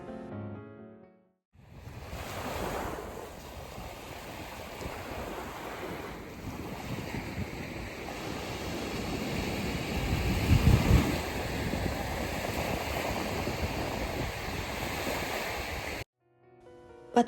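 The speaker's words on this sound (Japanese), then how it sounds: "サーフィンの聖地としても知られるソンジョン海水浴場は、都会の喧騒から離れた静かなビーチです。" Ocean waves at Songjeong Beach in Busan, a quiet surfing beach, make a continuous washing roar of surf with wind buffeting the microphone, rising slightly midway and cutting off abruptly near the end.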